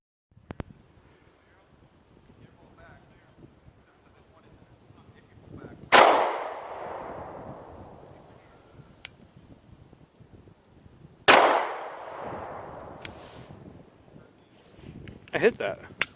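HK P30 pistol fired at a steel target on a range: two sharp, loud reports about five seconds apart, each followed by a ringing decay, with a few softer clanks and knocks near the end.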